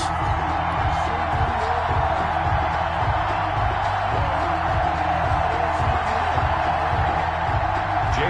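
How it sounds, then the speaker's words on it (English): Stadium crowd noise from an American football video game, Kansas City Chiefs versus Philadelphia Eagles, a steady dense roar with a rhythmic low thumping pulse running through the whole stretch, loud and continuous without any clear speech. "This crowd is ready as their guys get set to match up between the Kansas City Chiefs and the Philadelphia Eagles."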